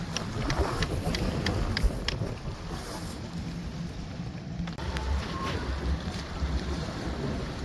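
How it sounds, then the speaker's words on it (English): Strong wind gusts sweep across a campsite, buffeting the microphone with a low continuous roar and rumble, with a few light knocks and rustles from camp setup. "We've got 10 plus mile an hour wind."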